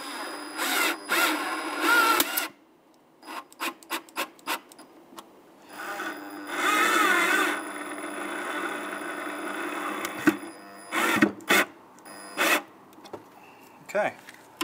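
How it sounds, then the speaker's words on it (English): A power drill enlarges holes in the headlight bezel of a 1992-1996 Ford F-150, sounding as several short whirring bursts and a few longer runs, close and loud, with gaps between them. "open up these holes slightly to get them to match up"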